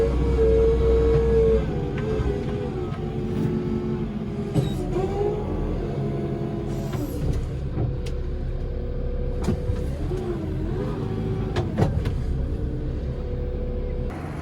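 A Merlo telehandler drives up onto a low loader trailer on a farm, its diesel engine a loud, close rumble that climbs in pitch and settles as it moves, with clanks and knocks from the machine and trailer.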